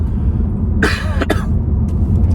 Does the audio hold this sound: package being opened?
no